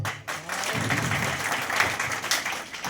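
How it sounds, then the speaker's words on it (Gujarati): An audience at a direct-selling meeting applauds, dense sustained clapping from many hands filling the room, fairly loud and steady for a few seconds with no speech over it. "આ બધાને તાળીઓના ગરગડાટથી વધાવો"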